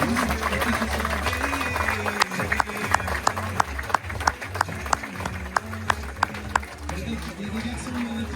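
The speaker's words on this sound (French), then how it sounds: "Faut encore les applaudir, Inch'Allah." Audience clapping for performers on stage at an Umrah departure ceremony conference, rhythmic hand claps picking up in a steady beat over crowd murmur and a low music-like drone, with voices talking throughout.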